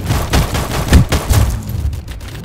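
Rapid pistol gunfire in a Roblox first-person shooter, a string of loud, close shots in quick bursts that thin out toward the end, with no talking.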